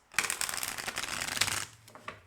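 Tarot cards shuffled by hand in a quick, papery riffle that runs steadily for about a second and a half, then trails off into a few soft, separate flicks as cards are drawn.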